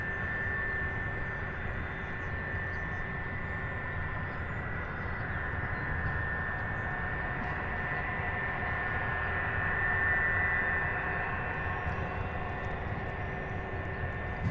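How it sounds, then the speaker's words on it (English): An aircraft taxiing at Louisville International Airport, a steady distant engine drone with a constant tonal whine, rising slightly partway through. "This one's got a long taxi from the very end of the runway coming out of ramp 11."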